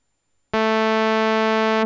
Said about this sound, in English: This almost sounds like a sawtooth wave.